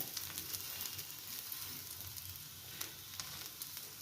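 A chickpea dosa sizzles steadily on a hot pan, a soft, continuous frying crackle with occasional sharper pops, heard alone with no talking.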